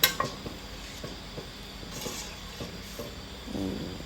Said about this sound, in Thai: จุดแก๊สแล้วก็คนให้ข้าวเบื่อละลายก่อนค่ะ